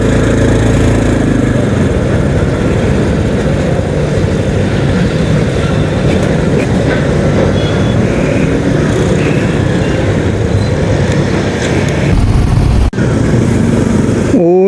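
Motorcycle engine while riding, a loud, steady droning hum with wind noise that holds for the whole stretch, with a brief rattle near the end.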